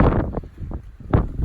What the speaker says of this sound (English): I don't know how much you're going to be able to hear of this because it's quite windy up here